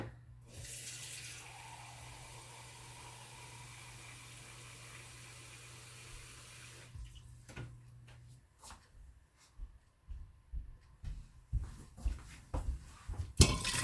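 Water runs steadily into a pot for about seven seconds during kitchen meal prep for a keto casserole and stew, then stops, followed by louder clatter and handling noises close by.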